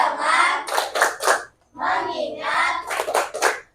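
A classroom of children claps a rhythmic focus pattern in unison, several quick bursts of hand claps mixed with their chanted voices, loud and close.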